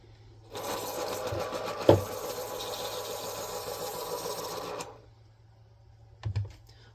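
An electric pencil sharpener grinds a colored pencil for about four seconds, a close, buzzing motorized whir with a sharp click near the start, then stops, followed by a brief tap.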